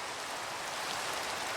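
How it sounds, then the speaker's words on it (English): Steady rain hisses without a break in a Minecraft game world, a soft, even wash of drops with no voices over it. "There is so much rain on this server."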